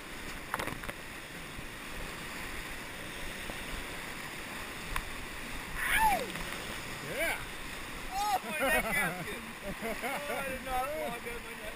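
Kayak paddling through whitewater rapids on the Skagit River, with steady rushing water, splashes and paddle strokes close by, and voices shouting over the churn.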